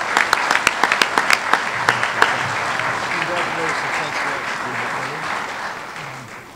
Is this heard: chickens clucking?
no